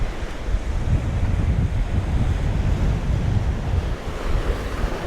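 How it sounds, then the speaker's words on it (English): Strong gale-driven surf rushing through a small jetty at Busselton, a loud continuous roar of breaking waves and gusting wind buffeting the microphone throughout, with no voices. "check out the little jetty when the waves come rushing through"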